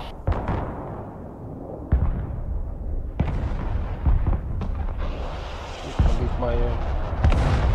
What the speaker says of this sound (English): Don't know where that artillery's firing from.